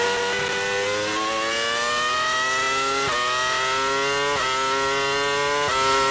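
A Formula 1 car screams around Suzuka on a wet lap, heard from onboard as one loud, continuous engine note climbing steadily through the revs, broken by several quick upshifts.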